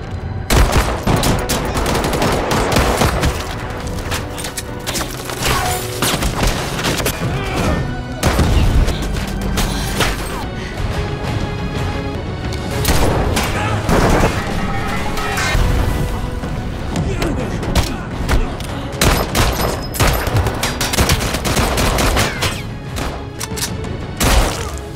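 Gunfire in an action-movie shootout, with dense, continuous loud bursts of shots, booms and impacts over a steady bed of score and effects throughout, and some voices mixed in.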